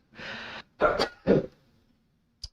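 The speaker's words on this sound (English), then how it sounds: "I have to sneeze." A single close sneeze with a sharp inhale buildup and explosive release, followed by a brief faint sound.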